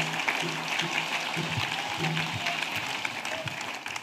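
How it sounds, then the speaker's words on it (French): A church congregation claps as an offering of praise to Jesus Christ during a worship service, a dense, steady wash of many hands sustained throughout, with faint low voices murmuring beneath. "Clap offering for Jesus Christ."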